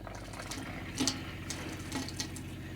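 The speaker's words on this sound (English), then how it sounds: "hot water coming through as well" Hot water runs steadily from a tap in a Swift Kon-Tiki 784 motorhome during water tank cleaning, a close, even rush with a couple of brief sputtering bursts.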